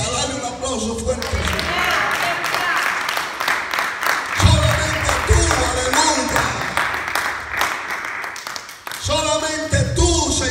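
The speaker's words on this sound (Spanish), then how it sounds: "Dale un aplauso fuerte." Church congregation applause during a Spanish-language service, loud dense clapping swelling through the room as a preacher speaks over it, with the clapping and voices blending together throughout.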